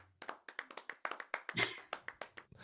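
A short burst of recorded applause, crisp rapid clapping from a small group, played back fairly quietly and evenly.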